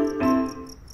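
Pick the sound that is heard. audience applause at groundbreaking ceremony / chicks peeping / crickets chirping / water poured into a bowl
crickets chirping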